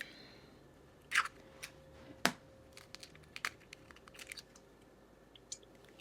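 Room-temperature eggs cracked into a bowl, a few sharp, close taps and cracks spaced over several seconds, with small shell clicks and quiet kitchen handling between them.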